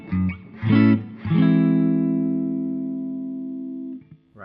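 An electric guitar plays a short riff through a clean amp, a few quick picked notes followed by a long sustained chord that rings and slowly decays, close and clear with no talking.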